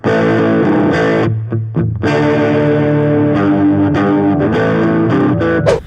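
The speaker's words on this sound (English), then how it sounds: "overdrive pedals and distortion pedals, they sound like this" Heavily distorted electric guitar chords, played through overdrive and distortion pedals, ring out loud and sustained, with a brief choppy break near the start before the saturated tone resumes.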